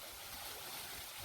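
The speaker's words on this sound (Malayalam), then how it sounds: "വെള്ളച്ചാട്ടം" Waterfall at Vattayi near Thrissur, heard as a faint, steady rushing roar of water, distant and unbroken with no talk.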